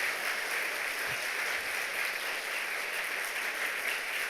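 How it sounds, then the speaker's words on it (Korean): A church congregation at an evening revival service breaks into steady applause, a soft, even patter of many hands continuing throughout without much rise or fall. "박수 쳐줘요."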